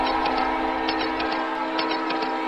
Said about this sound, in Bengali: হঠাৎ ট্রেনে হুইসেল বেজে উঠতেই চমকে উঠলাম